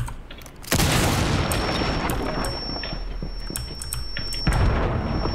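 A breach charge detonates in Rainbow Six Siege, a sudden loud boom followed by sustained rumbling debris and crackle, then a second heavy blast near the end.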